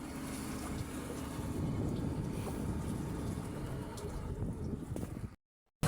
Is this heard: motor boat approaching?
yes